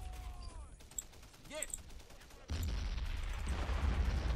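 Machine gun and mortar fire in the Men of War video game, with scattered bursts and booms that swell into a heavier, sustained barrage near the end.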